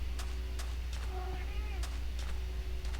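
A kitten gives a faint, drawn-out meow or two, half-buried under a steady low electrical hum and soft background noise.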